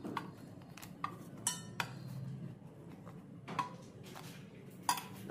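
Metal utensils clink and tap against an iron kadai during home cooking, with several sharp, separate strikes scattered over a quiet, low background hum, no talking.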